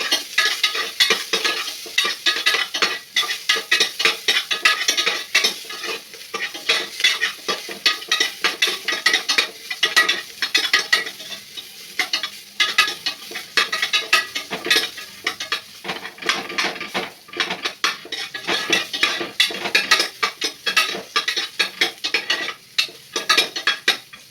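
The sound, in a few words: frying spices in oil and stirring in a pan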